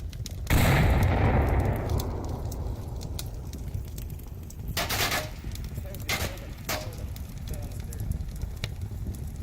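Gunfire in the VR shooter Onward during a competitive grand final match: a loud burst opens the clip, followed by scattered sharper shots and clatter over a busy, noisy game background, with no clear speech.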